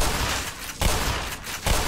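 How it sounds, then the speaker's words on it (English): Shotgun blasts in the first-person shooter Black Mesa: two or three loud, booming shots a little under a second apart, each with a short crackling tail. "I'm testing the shotgun"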